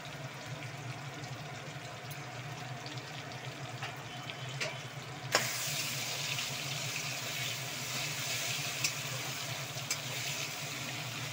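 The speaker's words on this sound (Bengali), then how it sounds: "আদা রসুনটা অল্প একটু ভেজে নিতে হবে যাতে কাঁচা গন্ধটা চলে যায়।" Ginger garlic paste sizzles and spatters in hot oil in a pan for a Bengali fish curry, a steady broadband frying hiss that grows louder midway, with small crackles on top and no talking.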